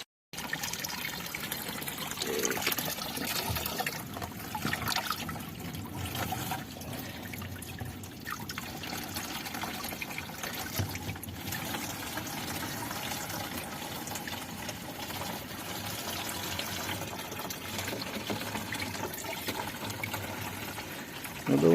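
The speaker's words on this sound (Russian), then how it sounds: "довольно быстро набирается вода." Spring water trickles and splashes continuously into a container, a steady quiet filling sound with faint background noise.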